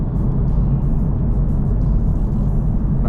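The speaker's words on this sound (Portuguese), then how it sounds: "Eu escuto bem aqui o ruído de rolamento das rodas" Honda Civic Type R on the move, with a steady, loud low rumble of tire rolling noise and road drone filling the cabin throughout, no voices heard.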